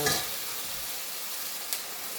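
Marinated silver pomfret sizzles in a hot pan, a steady loud hiss of frying with a sharp burst at the start and a brief spike partway through, no voices.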